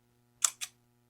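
Two quick, crisp clicks sound close up from a small handheld tally counter, a sharp press and release in a quiet room.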